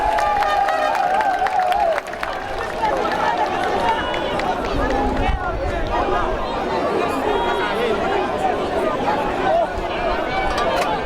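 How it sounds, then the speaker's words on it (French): Large crowd applauding and cheering at a Haitian independence anniversary ceremony as the president comes forward to speak, sustained clapping with chatter and shouts, a tone or voice audible early on. "Sous applaudissement, nous avons invité le président paysan Michel Joseph Martelly passer pour discours de circonstance"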